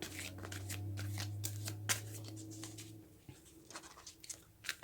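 Oracle cards from the Wisdom of the Oracle deck being shuffled by hand, with quick riffling flutters and soft taps close to the microphone, a low hum underneath and no talk.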